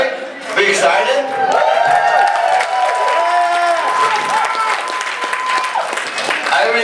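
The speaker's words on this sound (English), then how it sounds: "You fuckers already clapping?" A comedy show audience breaks into sustained clapping and some cheering, a dense crowd of applause holding steady throughout with a voice speaking faintly underneath.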